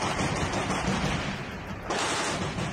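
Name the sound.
rapid gunfire in battle at Azovstal steel plant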